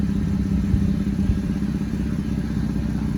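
Car engine idling with no muffler fitted, a loud, steady raw exhaust drone with a rapid low pulsing throb running throughout, close by and with no voices.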